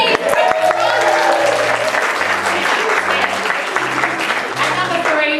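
Cabaret audience applause with cheering fills the room steadily and loudly from start to finish, mixed with a sustained musical hum beneath the crowd.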